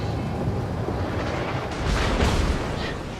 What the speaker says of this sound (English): Yamato is firing probably at my bow.